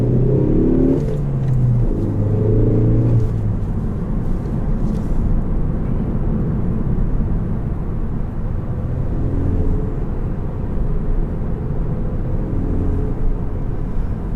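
A 2018 Ford Focus ST engine drones loudly and steadily from inside the cabin during a drive, with rising rev tones early on and a constant low road rumble.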